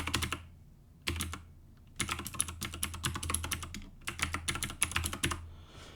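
Fingers type a password on a computer keyboard, close crisp key clicks in quick bursts separated by short pauses.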